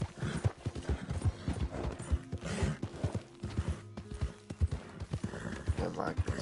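A horse's hooves clip-clop rapidly at a gallop in Red Dead Redemption 2, with an occasional whinny and someone talking over the game sound.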